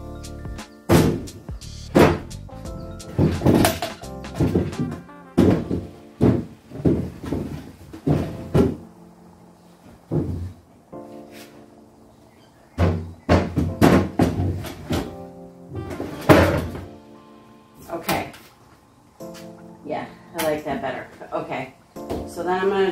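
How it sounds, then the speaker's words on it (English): Wooden drawers on a solid wood Sumter chest of drawers are pulled out and swapped between slots, giving repeated knocks, slides and thunks in irregular bursts, fairly close and loud, with talk heard in places. "I'm gonna switch this drawer and this drawer"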